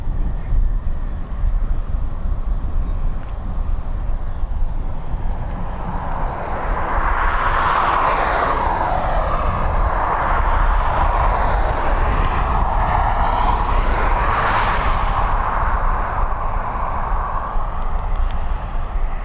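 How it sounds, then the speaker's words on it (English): A Finnair airliner taxiing at Dublin Airport, its jet engines giving a loud, steady rumble that swells into a broad rushing whine mid-way before easing slightly, with no voices over it. "The Finnair is taxiing down towards this aircraft"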